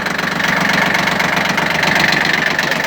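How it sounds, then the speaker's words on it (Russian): A Shibaura P17F Japanese 17 hp mini tractor runs its rotary tiller, giving a loud, close, steady engine drone with a rough, knocking pulse throughout and no speech. "Давайте включим фрезу, посмотрим, как работает."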